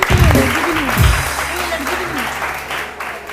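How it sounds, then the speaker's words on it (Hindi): A studio audience on a TV morning show claps in a dense, loud burst, with a person talking over the applause as it eases off. "जीनत के लिए बहुत सारी तालियां जी"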